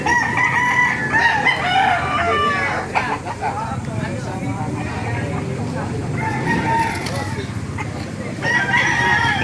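Several roosters crow repeatedly amid clucking chickens at a busy open-air chicken market in Baliuag, Bulacan, with people talking nearby throughout.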